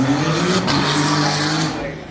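McLaren W1 supercar passing at the Goodwood Festival of Speed, a close, loud engine roar with tyre noise sweeping by and fading away over about two seconds, crowd voices underneath.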